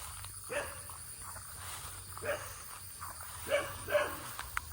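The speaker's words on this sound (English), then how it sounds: "She's a scary looking dog." A Thai farm dog gives four short, faint barks spread over a few seconds, each a separate yelp against a quiet outdoor background with a constant hum.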